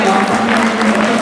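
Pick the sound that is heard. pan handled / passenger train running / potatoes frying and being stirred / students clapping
students clapping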